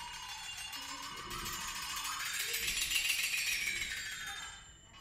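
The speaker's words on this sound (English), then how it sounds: "He also has a very cool instrument called the flexitone." A flexitone gives a wobbly, eerie metallic tone that bends upward in pitch with a rapid rattling shimmer, then slides back down and fades, close and alone.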